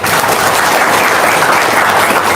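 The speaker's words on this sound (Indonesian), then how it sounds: "Tepuk tangan dong." Audience clapping loudly and evenly, a thick continuous wash of hands close by with no talking.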